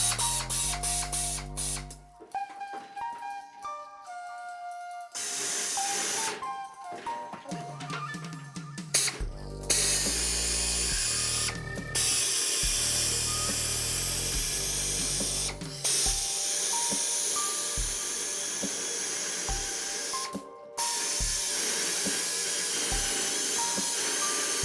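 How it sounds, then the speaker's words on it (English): Electric shears cut through a metal sheet in a dyno room being soundproofed, a loud continuous whining buzz with a few brief pauses and abrupt restarts, close and alone without speech. "we're about to try electric shears"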